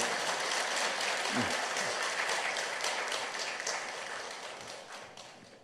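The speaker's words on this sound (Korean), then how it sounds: "우리 한번 힘차게 박수하시겠습니다." A church congregation applauds warmly during a Sunday service, a dense crowd of clapping that holds steady and then gradually fades out.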